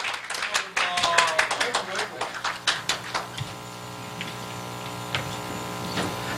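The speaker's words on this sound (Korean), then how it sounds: "따뜻한 박수로 모셔서 축하 공연 듣도록 하겠습니다" An audience at a Korean civic group's launch ceremony claps to welcome a performer, starting as a burst and thinning to a few distinct, slowing claps over about three seconds, followed by a low hum and sparse sounds.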